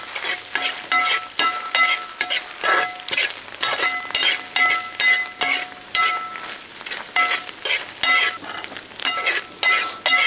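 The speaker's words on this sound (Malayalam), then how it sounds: "നന്നായിട്ട് ഇളക്കിക്കൊണ്ടിരിക്കണം അല്ലെങ്കിൽ പല സ്ഥലം പല വേവായി പോകും" A spoon stirs coconut-based kootu curry in a hot pan, giving steady scraping and sizzling strokes in a continuous rhythm, close and fairly loud, with no talking.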